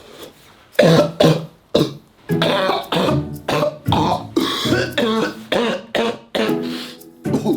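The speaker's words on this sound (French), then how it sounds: "c'est quoi tu tousses comme ça?" Repeated harsh coughing and throat-clearing fits from one person, loud and close, in bursts with short pauses between them.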